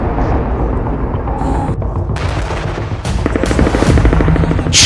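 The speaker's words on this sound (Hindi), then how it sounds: "खान यूनिस पर खूनी हवाई हमले।" Air strikes hitting Khan Younis, Gaza: a dense, loud roar of blasts and rumbling that keeps surging, with sharp bursts stacking up in the second half, no voices.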